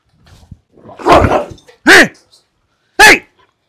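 A dog growls and snarls briefly at feeding time, then two loud, sharp barks ring out about a second apart, close and clear against silence.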